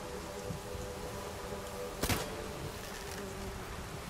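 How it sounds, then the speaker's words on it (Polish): A swarm of bees buzzes in the video game The Witcher 3, a faint steady insect drone with a brief sharp crackle partway through. "zaatakował cię rój pszczół"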